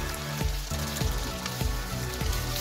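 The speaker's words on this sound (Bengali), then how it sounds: "এখন ভাজা পেঁয়াজগুলো ঢেলে দিব মুরগির মাংসের" Fried onions poured into chicken pieces in a pan for chicken bhuna, a dense steady sizzle with faint rhythmic clicks throughout and no talking.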